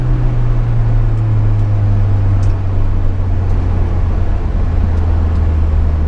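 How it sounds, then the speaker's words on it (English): A Honda S2000 with its roof down, running with an upgraded intake on a winter drive, gives a loud, steady engine drone with shifting revs as it downshifts, heard from close by with constant road and wind noise underneath. "Listen to the downshift."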